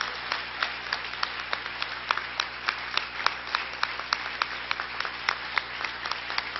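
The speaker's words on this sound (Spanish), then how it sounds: "vamos a dar un fuerte aplauso al Señor." A church congregation claps in a steady, rhythmic pattern of crisp claps that repeat at an even pace throughout, with a faint hum in the background.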